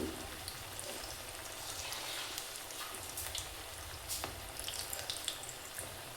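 Potato bondas deep-frying slowly in hot oil, a faint, even bubbling crackle with scattered small pops, steady throughout and with no voices.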